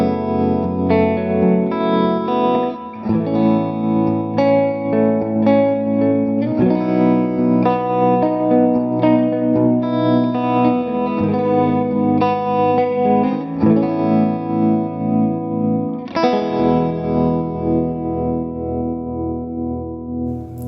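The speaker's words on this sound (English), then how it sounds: "We've got our tremolo set to a dotted 8th with a plate reverb right about" Electric guitar played through a TONEX Benson Monarch amp capture, with tremolo at a dotted-eighth rate and plate reverb at about 30%, rings out loud and alone in sustained, pulsing chords and notes for about twenty seconds.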